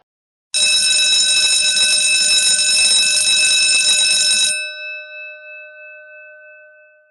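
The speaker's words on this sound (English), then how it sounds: "The alarm bell clanged over and over again, sharp, relentless" An alarm bell rings loud and relentless in one continuous rapid clanging burst lasting about four seconds, then cuts off and leaves a ringing metallic decay fading out.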